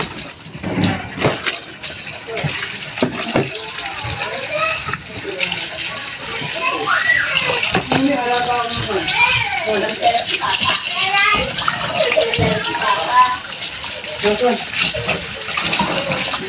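Raw pork is rinsed under running water for pork nilaga in a home kitchen, a continuous close splashing and gushing that lasts throughout, with a voice talking over it at times.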